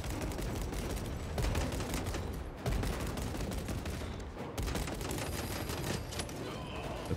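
Dense, continuous bursts of enemy gunfire aimed at the player in a video game, loud and rapid with brief breaks, heavy overlapping shots filling the scene.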